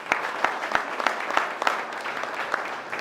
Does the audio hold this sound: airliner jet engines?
no